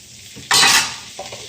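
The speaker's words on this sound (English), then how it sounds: "put a little bit of garlic, minced garlic in there as well." Minced garlic hits a hot frying pan and flares into a loud burst of sizzling that fades over a second, framed by quieter stirring noises close by.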